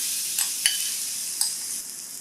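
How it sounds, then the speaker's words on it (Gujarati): Chopped sponge gourd goes into a hot mustard-seed and turmeric tempering, producing a continuous loud sizzle with a few sharp spatters and stirring clicks, no voices. "જે ગલકા સમારીને રાખ્યા છે એ આમાં ઉમેરવાના"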